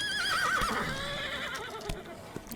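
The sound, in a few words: horse neighing in Roblox video game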